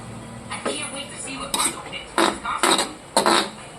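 A metal lid set onto a cooking pot of Bicol-style dinuguan (pork blood stew), several clattering clanks of metal on metal, close and fairly loud over a steady background hiss.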